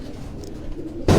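A racing pigeon at a loft in Quetta gives soft, low cooing over faint background murmur, ending with a sudden louder burst of noise.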